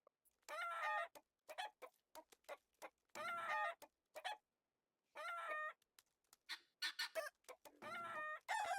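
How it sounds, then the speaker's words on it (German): Chickens cluck in the video game Baby Steps, with repeated short bursts of clucking and calls in an uneven rhythm, clear and fairly close, with no talk over them. "Da Hühner."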